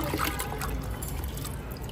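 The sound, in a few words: pouring water on plants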